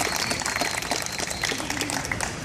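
Audience applause at a 2014 stand-up comedy show in New York, a steady wash of clapping from a crowd, moderately loud and continuous for a couple of seconds.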